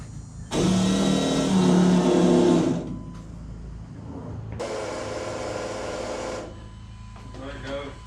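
An LS engine in an OBS truck cranks and runs after an Aeromotive fuel pump rebuild, giving a loud steady broadband roar for about two seconds, then a second, quieter run of similar length under a low background hum.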